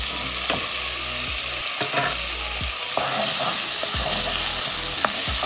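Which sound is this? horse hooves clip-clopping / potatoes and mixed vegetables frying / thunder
potatoes and mixed vegetables frying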